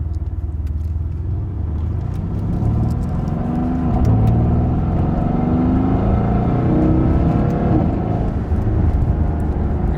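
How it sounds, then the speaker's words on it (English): A 2016 Mercedes-AMG GT S on the move, its engine a steady, close, low rumble that swells slightly while driving, with no talking. "You can hear the blow-off valve, hopefully on the camera."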